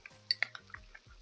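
A spoon stirs mayonnaise with everything bagel seasoning and garlic powder in a bowl, giving a few light, scattered clinks and soft scrapes, close and quiet.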